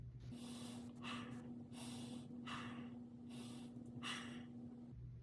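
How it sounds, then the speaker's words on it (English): Three slow breaths, each a soft inhale followed by an exhale, close and quiet over a faint steady hum. "Before the test, inhale and exhale 3 times"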